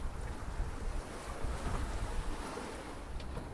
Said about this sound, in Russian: А это, можно сказать, пологие, спокойные волны